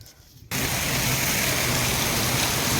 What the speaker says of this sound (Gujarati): અને પછી તો જોવો અમારે વરસાદ ચાલુ થઈ ગયો